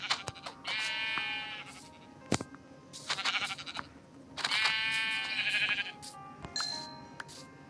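Sheep bleat repeatedly at close range, with three long wavering bleats separated by short pauses and a few sharp knocks in between. No one speaks.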